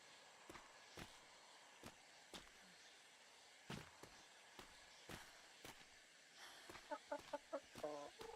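Chickens cluck faintly in a video game, with quiet repeated clucks and sharp clicks scattered across the scene and a quick burst of clucking near the end; low murmured speech may sit in the background.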